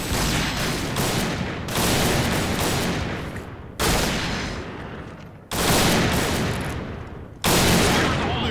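Repeated bursts of automatic gunfire in the Point Blank shooter game, loud and dense, with sharp onsets after short pauses and sustained rattling fire between them.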